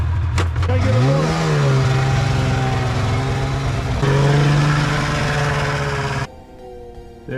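Small two-stroke engines on the boys' vehicles buzz loudly nearby, a high revving drone that climbs in pitch, holds, then cuts off abruptly as they pull away.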